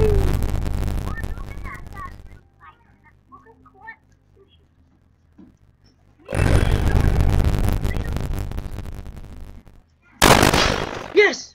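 Gunfire in the Roblox video game rings out in loud, dense bursts of rapid shots, with a quiet gap between the first volley and the later ones and a final sharp burst at the end.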